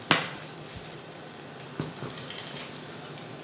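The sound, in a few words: trout fillets frying in a pan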